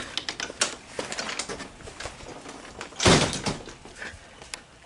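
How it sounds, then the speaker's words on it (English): A door slams shut once, sharply and fairly close, amid scattered outdoor rustling and small clatters at a backyard pool station. "didn't mean to slam the door."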